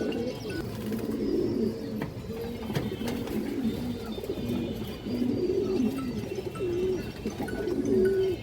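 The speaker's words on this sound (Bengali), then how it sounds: "কবুতরটা খুবই হাই কোয়ালিটি" Pigeons of old native breeds coo in low, throaty, repeated phrases that roll on continuously at close range, with faint chirps and rustling in the background.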